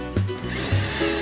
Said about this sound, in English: Pre-drill and attach screw eyes where you'll hang your screen.